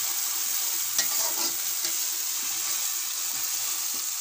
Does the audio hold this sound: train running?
no